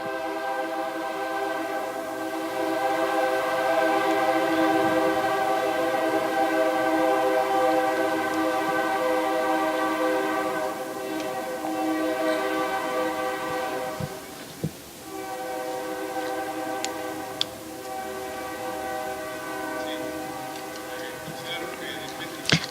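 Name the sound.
train passing with horn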